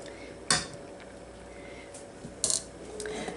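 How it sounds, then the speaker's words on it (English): A metal lid comes off a pot of glazed carrots with two sharp clanks, one near the start and one later with a brief rattle, against a quiet kitchen background. "Take the lid off."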